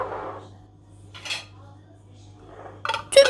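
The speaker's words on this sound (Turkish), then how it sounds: "Menemeni kavanozlara doldurduktan sonra kapaklarını sıkıca kapatıyorum" Glass jars of homemade Turkish menemen being closed, with a few short metallic clinks and scrapes of lids against glass separated by pauses, close and fairly quiet.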